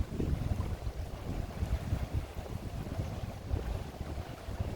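Wind buffets the microphone while fishing out on the water, a continuous low rumbling gusty roar with no voices, steady and fairly close.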